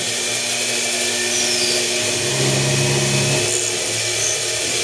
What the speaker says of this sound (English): It's not great to plunge an end mill like that